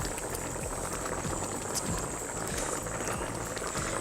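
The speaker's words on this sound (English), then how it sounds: "So now the sauce start boiling" Coconut curry sauce made with coconut cream bubbles steadily in a pot, a dense, continuous simmer of popping and crackling bubbles heard up close with no talking.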